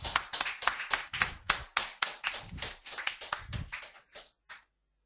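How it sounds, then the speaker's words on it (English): An audience applauds an award winner at a GREedge Academy ceremony, a steady burst of close hand clapping that thins out and fades to silence near the end. "Give a big round of applause for Piyush Chaudhary."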